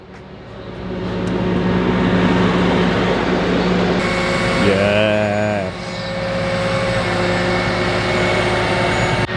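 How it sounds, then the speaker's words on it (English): A tow truck runs and its machinery whirs while a car is lowered off it, giving a steady mechanical drone with a brief rising whine in the middle. A person speaks briefly. "The car is here we're getting unloaded from the tow truck right now."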